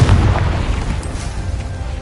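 Confringo explosion spell in a Hogwarts video game, a single heavy boom bursting loud at the start and decaying into a rumbling tail over two seconds.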